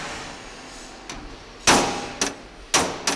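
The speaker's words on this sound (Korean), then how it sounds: "여기저기 망치질에 여념이 없다." Hammer blows on a metal safe in a safe factory, three loud ringing clangs spaced about half a second apart and preceded by a fainter tap, with workshop noise in the background.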